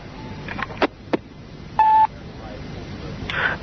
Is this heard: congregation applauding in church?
no